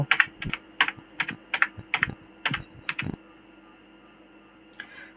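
Quick bursts of typing on a computer keyboard, clustered keystrokes for about three seconds, then a pause and a last few taps near the end.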